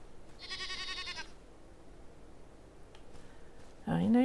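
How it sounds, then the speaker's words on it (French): A goat in the game Enshrouded lets out one clear, drawn-out bleat, followed by quiet ambience with faint scattered sounds, and then a voice starts talking at the end. "Ah bah voilà une chèvre. 2 chèvres."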